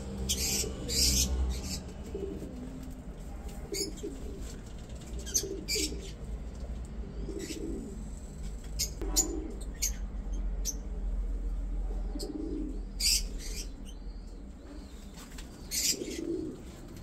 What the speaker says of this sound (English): nice pigeons.